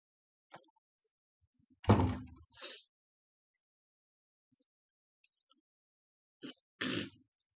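A door is shut indoors during a computer class: one heavy, close wooden thunk with a short rattle, followed a few seconds later by another solid thud. Faint light knocks sit between them in an otherwise quiet room.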